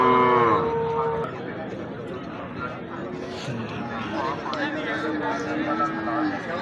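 A water buffalo lows briefly at the start amid the chatter and hubbub of a busy livestock market in Kharian, with people talking throughout.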